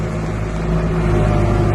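Kubota M5 112 tractor running in fifth gear as its engine is throttled down, a steady, loud low-pitched drone with strong harmonic hum, close and continuous with no talk.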